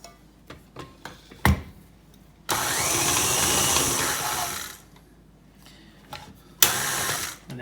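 An electric stand mixer works cookie dough for Dutch butter coconut cookies, with two bursts of loud close motor whir between clicks and knocks of handling.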